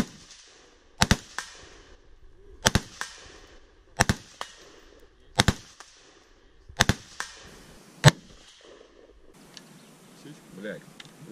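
Six sharp shots from an airsoft M4A1 Bushmaster rifle at irregular intervals, each a crisp crack with a quick decay, loud and fairly near, followed by quiet rustling.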